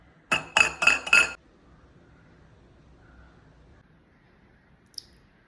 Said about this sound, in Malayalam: പക്ഷേ ഇങ്ങനെ മുട്ടയിടുന്നത് പൊട്ടിച്ചു നോക്കാം അതിനകത്ത് എന്താണ് സംഭവം